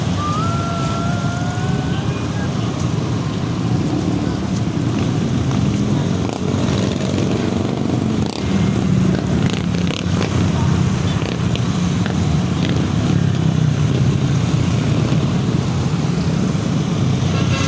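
Motorcycles in a motorcade rally in Guihulngan, a steady, loud engine drone and road rumble that continues without a break, with faint voices mixed in.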